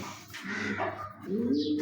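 Soft, low pigeon coos repeating close by, with a rounded warble rising near the end over faint background noise.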